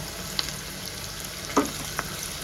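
An egg fries in a hot pan for fried rice, giving a constant sizzle broken by a few distinct clicks and a louder tap near the end, with no voices.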